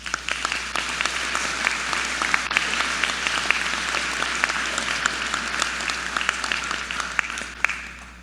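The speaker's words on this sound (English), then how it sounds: "Let's pause for a moment and give all our donors a round of applause." A convocation audience applauds donors with sustained, dense clapping from a large crowd, steady and loud across the whole stretch.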